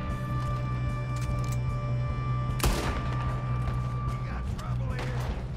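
Gunfire in Red Dead Redemption 2 as a single sharp, loud shot cracks midway through steady game ambience and a sustained musical drone.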